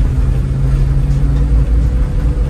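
Ex-Dakar Volvo C303 off-road vehicle driving on a snowy forest track, a loud, steady low engine rumble close by, with no voices.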